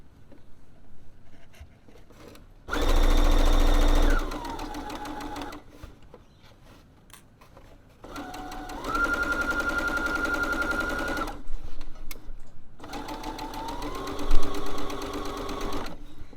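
A home sewing machine stitches lining fabric in three steady bursts of rapid, whirring motor stitching, with quiet handling noises and pauses between runs.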